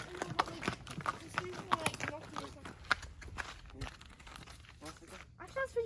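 Horse hooves strike a mountain trail at a quick pace in Dajti Mountain Nature Park, Tirana, Albania, a steady run of close, clattering beats with riders chatting over them.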